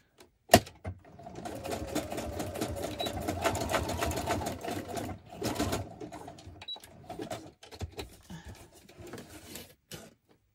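A sewing machine stitches a junk journal page, a close, rapid mechanical whirring run that stops and restarts in shorter bursts, opened by a sharp click.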